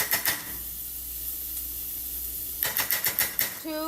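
Tomato paste sizzling in a pan for vodka-free pasta, a loud steady hiss with bursts of spoon taps and scraping at the start and end, and a brief voice at the close.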